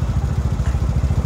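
Motorcycle engine running steadily, apparently a Terminator bike, with a low rhythmic pulsing thump and a slight clatter, fairly close and alone.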